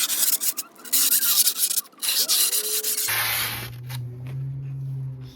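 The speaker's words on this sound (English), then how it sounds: "fold it in half, use that to sand down the edges" Folded skateboard grip tape sands down the edges of a board in quick, close, rasping strokes, a rapid scratchy rhythm. It gives way to a steadier rubbing hum near the end.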